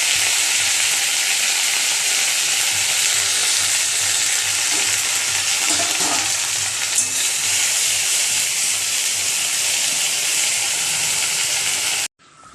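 Jute greens drop into hot oil tempered with dried chilli, bay leaf and mustard seeds, giving a loud, steady sizzle and crackle that runs continuously before cutting off abruptly near the end.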